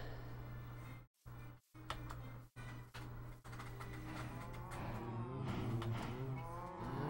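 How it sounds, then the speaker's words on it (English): Cows in a video game moo in long, low calls amid a steady hum, with several abrupt cuts early on and mooing growing clearer toward the end. "I definitely need to move my cows because you can hear them from up here"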